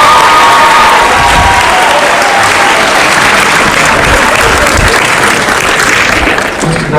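Sustained, loud audience applause mixed with crowd cheers at a school Black History Month program, a dense wash of clapping that holds steady for the whole stretch and eases only slightly at the very end.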